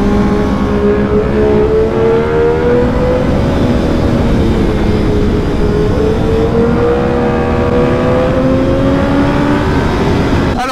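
A 2016 Triumph Daytona 675 R motorcycle engine drones loudly while riding, pitch rising and falling gently as the rider holds and shifts through the revs, steady and close throughout.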